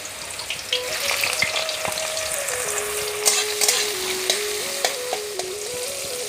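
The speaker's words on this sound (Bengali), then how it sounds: "কালি জিরা দিয়ে ভাজবো।" Nigella seeds fry in hot oil with a steady, close sizzle, along with the occasional scrape and clink of stirring, while a faint tonal hum runs underneath and no one speaks.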